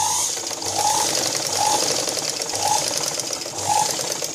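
A sewing machine stitches the darts on the front of a blouse with a steady close mechanical whir and a soft regular thumping beat, running alone without talk.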